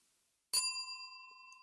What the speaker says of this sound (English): Ring the bell for us, Walter.